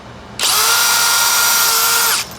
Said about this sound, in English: I come back here and drill through.